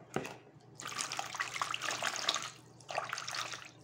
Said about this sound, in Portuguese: Só água. Eu vou colocar aqui mesmo dentro da bacia.